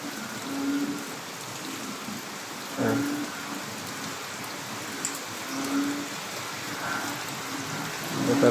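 Heavy, continuous rain falls on a flooded backyard, a steady hiss with scattered nearby drips and patters, fairly soft and with no voices.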